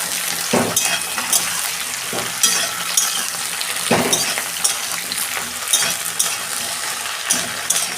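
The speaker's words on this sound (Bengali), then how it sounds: "ঢ্যাঁড়সগুলো ভাজবো।" Okra fries in oil in a wok, a continuous loud sizzle broken by repeated scraping stirs and metallic clinks of a spatula, close and steady throughout.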